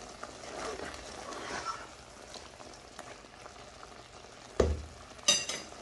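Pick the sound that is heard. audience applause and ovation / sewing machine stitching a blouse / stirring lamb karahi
stirring lamb karahi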